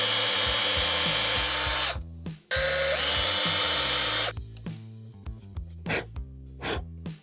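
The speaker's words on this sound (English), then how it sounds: "time to drill." A power drill bores holes into a guitar body in two long, loud whining runs with a short pause between, then gives several brief bursts as it stops, all close up with no one talking.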